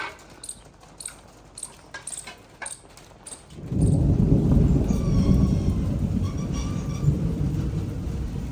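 The first summer rain arrives at a Pathani village: a few scattered clicks and taps are heard, then a close, loud, steady rush of rain takes over, with a low thunder rumble underneath and nobody speaking.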